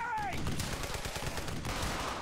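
Enemy machine-gun position firing in the World War II shooter Brothers in Arms: Hell's Highway, a dense, continuous rattle of shots that stays loud and steady throughout.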